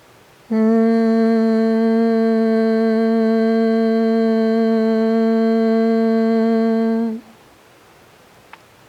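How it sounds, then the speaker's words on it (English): A steady, buzzing hum from one voice doing a yoga bee-breath exercise, held for about six and a half seconds at an even pitch and loudness before stopping abruptly. "a vibrational hum sound like this"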